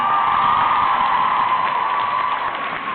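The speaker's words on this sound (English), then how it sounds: "A round of applause for Carrie Lynn." Convention crowd at a Toronto Supernatural fan event auction breaks into sustained applause and cheering, a dense steady wash of clapping and whoops with no talk over it.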